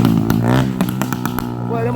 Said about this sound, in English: Me hear something like a bike come up the road.